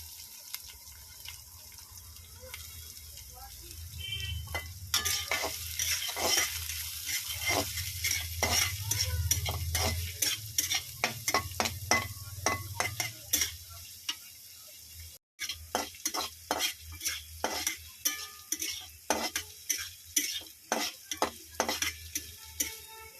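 Chopped onion and garlic sizzle in a pan while a utensil stirs and scrapes in quick repeated strokes, the frying hiss steady and close with rhythmic clinks throughout.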